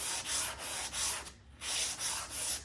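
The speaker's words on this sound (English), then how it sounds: "So you're going to take this and sand in the direction of the grain." Sandpaper wrapped around a block rubbed along the grain of a wooden sign's edges and sides: repeated close, raspy strokes in a steady back-and-forth rhythm, with a brief pause midway.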